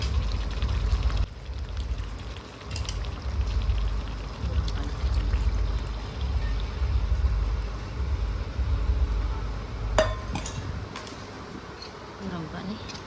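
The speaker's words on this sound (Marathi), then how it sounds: "त्याच्यामध्ये आपण गरम केलेलं पाणी सोडून देऊया." Heated water poured from close by into a pot of masala-coated chicken, a steady rushing hiss that lasts most of the way through over a low rumble.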